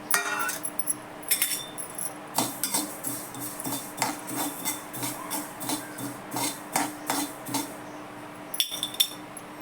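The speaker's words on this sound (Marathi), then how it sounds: "कारळे भाजून घेते चांगले" Niger seeds dry-roasting in a pan are stirred with a utensil, giving repeated scraping and clinking strokes against the metal in an irregular rhythm, close and fairly quiet with no talk over them.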